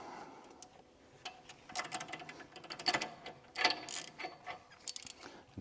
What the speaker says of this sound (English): give it an extra quarter turn with the ratchet